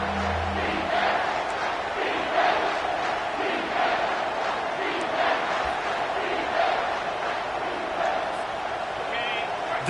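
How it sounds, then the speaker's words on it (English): A stadium crowd at a TCU at Utah college football game roars steadily for the defense on third down, a dense, sustained wall of cheering with rhythmic swells, heard under a play-by-play commentator's voice. "Decibels rising as the crowd gets behind this defense on third down"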